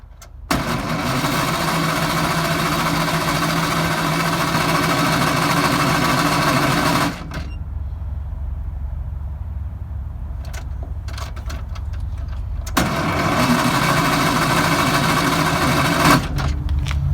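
A prewar Greyhound bus engine cranks in two long, loud stretches of steady grinding, broken by a quieter pause with scattered clunks, as the motor struggles to turn over.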